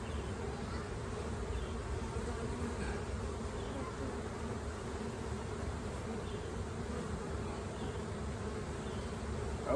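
Honeybees in an open hive being inspected drone in a dense, continuous buzz that stays close and steady throughout, with no talking.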